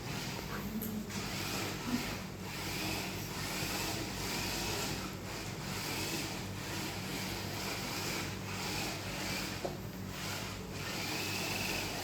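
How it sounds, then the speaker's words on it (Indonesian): A homemade Bluetooth-controlled vacuum cleaner, paired through an HC-06 module, runs with a steady mechanical hum and whir held at a constant level throughout, with no talk. "kira-kira begitu cara kerja dari vacuum cleaner ini"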